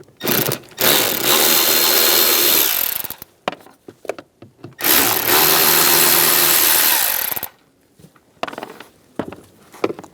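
A power driver with a 5.5mm socket backs out two screws while replacing the blower motor resistor on a 1999-2006 Chevrolet Silverado 1500. It sounds as two long, steady whirring bursts separated by a short pause, close and fairly loud.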